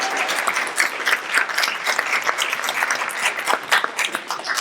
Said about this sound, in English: Round of applause for Michael, everybody